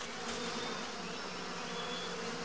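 A swarm of bees buzzing near their hive in a swamp, a dense continuous drone of many wings with a few individual bees weaving past, steady and close.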